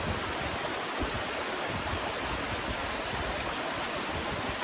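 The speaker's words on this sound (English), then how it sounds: "It knows how to create the sound of a waterfall." A waterfall roars with a steady, dense wash of falling water, constant and unbroken, moderately loud and close, with no other sounds.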